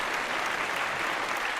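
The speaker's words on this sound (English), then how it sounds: "And a big round of applause for Shira." A burst of applause for a caller on a paranormal open-line show fills the whole moment, an even, unbroken wash of many hands clapping with no pauses.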